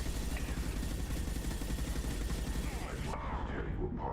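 Sustained rapid weapon fire in a Mass Effect Legendary Edition battle, a steady dense rattle that cuts off abruptly near the end, with voices over it.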